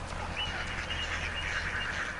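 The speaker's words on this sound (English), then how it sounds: "There's a duck." Ducks in the video game Roundabout give faint quacking, honking calls over a steady game background, with no voices.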